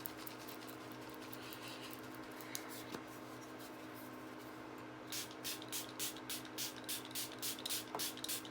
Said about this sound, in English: Catrice Prime and Fine Dewy Setting Spray.